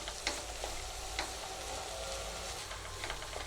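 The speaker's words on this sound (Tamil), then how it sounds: "ஒரு two minutes two five minutes வரைக்கும் அப்படியே ஸ்லோவாக வச்சு வதக்கிடுங்க" Coconut and peanuts sauté slowly in a little oil, giving a steady, close, moderate crackling sizzle throughout, with a few faint clicks of stirring scattered in.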